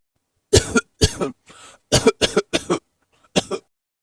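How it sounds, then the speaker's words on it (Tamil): Several deliberate coughs in a classroom, sharp close bursts in an uneven series with short silences between, one softer throat-clearing sound among them. "நீ வேணும்னே இருமிக்கிட்டு இருக்க"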